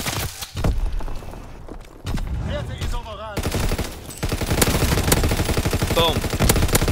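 Rapid bursts of gunfire in Call of Duty: WWII, dense and loud, with sharp repeated shots and clattering impacts, a voice briefly audible under the fire.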